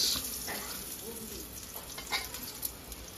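Eggplant slices fry in a pan, giving a soft, steady sizzle at close range with a few faint scrapes and light pops.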